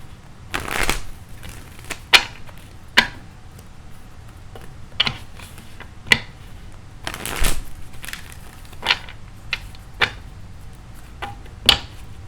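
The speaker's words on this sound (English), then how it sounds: "I'm gonna shuffle." Tarot cards being shuffled by hand for a pick-a-card reading, giving a string of sharp riffles and soft card slaps at irregular intervals, fairly close and quiet, with no talking.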